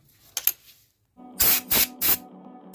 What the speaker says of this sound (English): you can clean pipes with brake cleaner